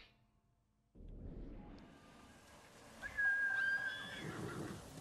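After a moment of quiet, soft ambient noise rises and a horse whinnies with a high, wavering neigh, moderately loud, in the video game Ghost of Tsushima.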